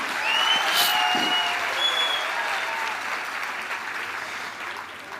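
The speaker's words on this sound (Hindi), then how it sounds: "हमारे AWPL के फाइटर जो पहली बार आए उनके लिए एक बार जोरदार ताली बजा के उनको स्वागत करो।" Loud audience clapping at a large AWPL motivational gathering in India, welcoming first-time attendees, starting strong and slowly tapering, with faint voices and whistles mixed in.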